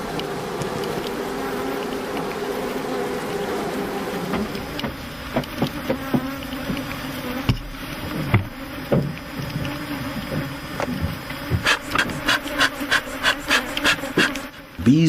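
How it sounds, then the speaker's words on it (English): Steady buzzing of honey bees around a hive hums throughout, joined midway by irregular knocks and clicks, then a run of rapid, evenly spaced taps near the end. "Bees that end up on the trailer can still find their way back to their queen"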